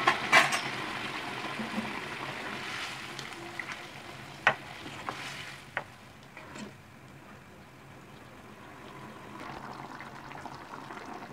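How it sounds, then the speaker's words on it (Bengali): Hot water poured into a pan of yam masala gravy, a soft sizzle and bubbling rising, with a few sharp spoon or pot clinks early on before the hiss settles into a steady low simmer. "জলটা আমি এখন উলের মধ্যে দিয়ে দেবো"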